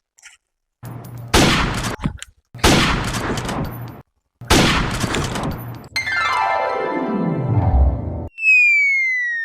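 Gunfire in a Hindi police comedy skit: three loud bursts of broadband blasts, each about a second or more, followed by a long descending whistle-like sweep and then a few bright rising tones, no talking over them.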